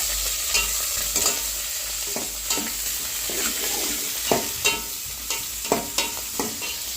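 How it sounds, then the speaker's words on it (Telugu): Green chillies, onions and curry leaves frying in hot oil for chicken biryani are stirred in a pan, a steady sizzle under repeated scraping strokes of the spoon, close and fairly loud, with no talk. "అలానే పచ్చిమిర్చి అవన్నీ వేసుకొని కలుపుకోవాలి"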